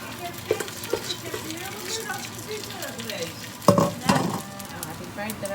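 Leftover fried rice and bami noodles reheating in a pan, with a steady sizzle under stirring and a few clinks and scrapes of a utensil against the pan, close by, while people talk in the background.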